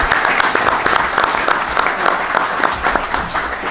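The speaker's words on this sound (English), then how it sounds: "give Senator Alvarado a round of applause." Applause rises from a legislative-update audience for Senator Alvarado: a brisk, continuous patter of many hands clapping, fairly loud and steady across a few seconds.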